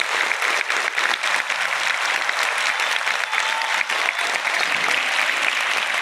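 Thunderous applause from a theatre audience after a stage performance of a Ramayana drama, dense continuous clapping filling the whole stretch at steady loudness, with no talk over it.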